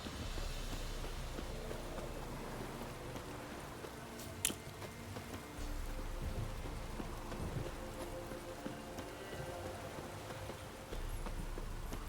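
Steady rain in The Witcher 3 video game, a soft continuous hiss of drops on surfaces with one brief sharp crack; no clear thunder rumble stands out.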